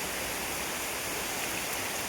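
The Alun Naga waterfall on Gunung Jerai in Kedah, heard from far off as a steady, soft hiss of rushing water with no breaks and no voices.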